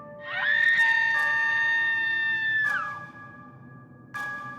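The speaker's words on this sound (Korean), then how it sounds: "환한 빛에 노파는 다시 한번 비명을 지르기 시작했다." An old woman's sound-effect scream in a horror story is a long, piercing, wavering shriek with strong harmonics. It breaks off, then a short second shriek follows, loud and alone.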